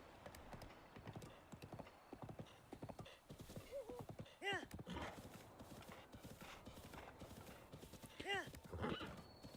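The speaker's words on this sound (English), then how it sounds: "Harley or Matt, what should my first horse be named?" Horse in the video game Breath of the Wild, steady clip-clopping hooves with two distinct neighs, under a player talking throughout.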